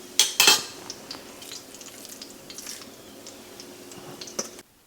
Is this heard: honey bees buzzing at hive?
no